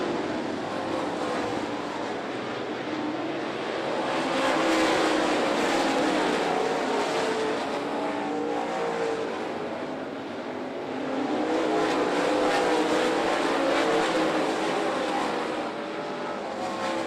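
Race cars circling a speedway oval, engines swelling and fading in a loud continuous roar as the pack passes close by and moves away, without talking.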